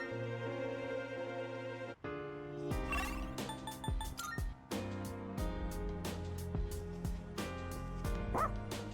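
The dog Koromaru barks in the video game Persona 3 Reload. A series of sharp yips and bow-wows sounds over continuous game music, spread out irregularly across the stretch.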